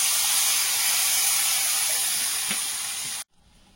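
Water poured into a hot pan while a Bengali bogo fish curry with raw tomato cooks, giving a loud, steady steam hiss that runs for about three seconds and then cuts off abruptly to near quiet.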